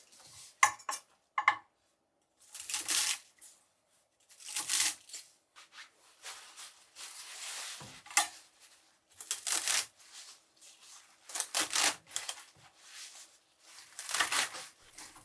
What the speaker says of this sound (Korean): 깨끗이 씻은 홍갓은 4cm 길이로 썰어 준비해 두고